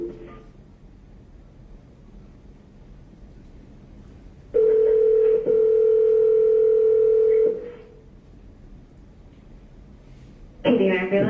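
A telephone line rings while an emergency call is being transferred to an EMS service. A steady tone sounds for about three seconds, a short burst of tones follows, and quiet line noise runs before and after.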